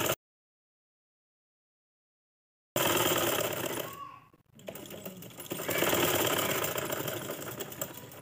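A sewing machine stitches stretch velvet after a few seconds of silence, its fast mechanical whir briefly dipping mid-run before resuming loud and steady to the end.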